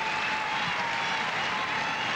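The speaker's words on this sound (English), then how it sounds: "this huge crowd at center court cheering for poetic justice" A large Wimbledon Centre Court crowd at a 1986 men's semifinal cheers and applauds steadily, a dense, sustained roar of clapping that holds at full strength throughout.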